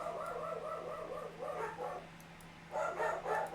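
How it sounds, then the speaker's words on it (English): Several dogs bark and yip in quick bursts at a moderate distance, pausing briefly before a louder cluster of barks, with a steady low hum beneath. "Pardon the dogs there."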